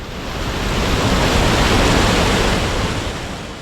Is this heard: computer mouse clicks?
no